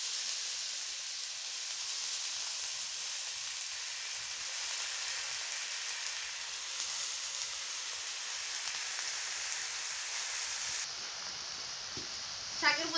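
Cut, washed greens hitting a hot pan, setting off a steady, even sizzle that hisses on without break, with a brief clatter at the very end.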